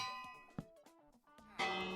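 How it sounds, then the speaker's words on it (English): A bell in the Minecraft video game is rung, giving a short clanging ding partway through and then a brighter, louder ring that sustains to the end, alone with no talk. "if I move this bell right next to him and ring it"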